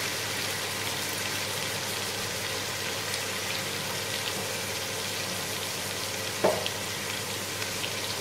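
Ginger garlic paste and turmeric powder sizzle steadily in hot oil in a pan for sholay, a continuous even frying hiss with a single brief clink partway through.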